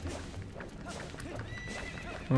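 A horse whinnies in The Legend of Zelda: Twilight Princess HD, with hoof clops beneath, a short loud burst at the end, and someone talking over it.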